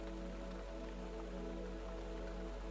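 Night rain falls steadily outside a pottery studio, a soft constant patter of drops over a low steady hum, faint and unbroken.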